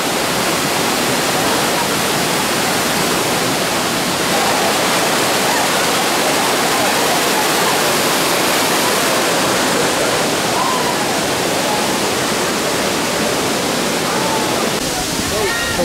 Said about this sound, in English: So we made it to this waterfall here.